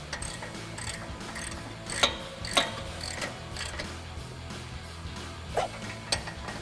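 A ratchet with an 18 mm socket tightens a bolt on a Jeep Wrangler JK lift kit, giving a few sharp clicks and small metallic clanks over a low background hum.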